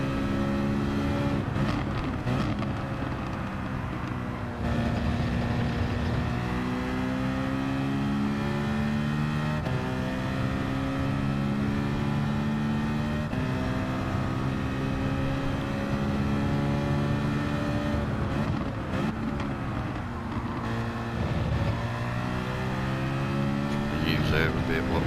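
A Porsche race car engine in a sim racing game at Watkins Glen drones continuously, rising and falling through gear changes and corners for the whole stretch, while someone talks over it.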